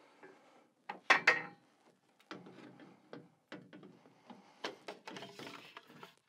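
A cross trainer column is lifted into place during home assembly: scattered close metallic clunks, rattles and ratchet-like knocks in uneven bursts, with quiet gaps between them.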